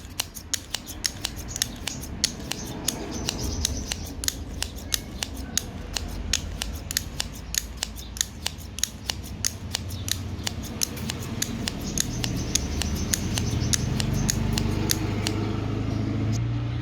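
Household scissors are rubbed against an abrasive to sharpen them, giving a fast, regular series of sharp metallic scrapes and clicks that continues close up for the whole stretch.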